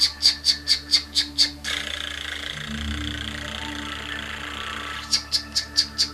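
A voice imitates a Rain Bird sprinkler on a high school soccer field, making sharp rhythmic ticking squawks in fast bursts at the start and end, with a lower sustained hissing sweep between them.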